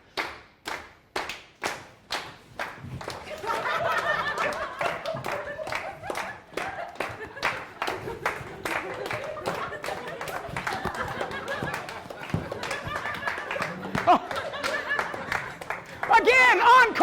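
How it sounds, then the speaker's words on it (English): A conference audience at Microsoft UK claps in a few slow, separate beats that swell into steady, dense group clapping, with a voice and some laughter mixed in throughout. "Can we do a clap? Clap, clap, clap, clap."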